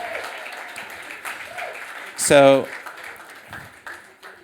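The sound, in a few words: audience applause for the Tari Labs team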